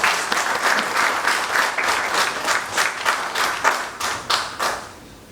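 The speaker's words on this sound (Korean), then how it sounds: "큰 박수로 맞이해주십니다." Applause from a seminar audience welcoming a city mayor to the stage. The clapping is steady and continuous, with slight swells, and stays fairly near for about five seconds before trailing off.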